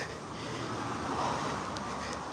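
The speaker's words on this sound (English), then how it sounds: "It feels all of a sudden like it is really raining again outside" Heavy rain pouring onto a canopy directly overhead outdoors, a dense, steady broadband hiss and patter that stays loud and unbroken throughout with no voices.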